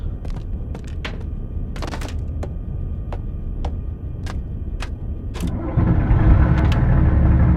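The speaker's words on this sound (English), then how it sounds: "I think it helps if I start the engine first." A U-boat engine in the submarine video game Wolfpack cranks and catches, rising into a loud steady rumble after several seconds of mechanical clicks and clacks.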